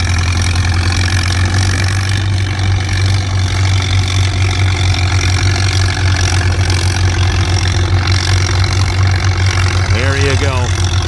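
An antique tractor engine runs steadily at a plowing day, a loud, continuous low rumble close by, with a brief voice near the end.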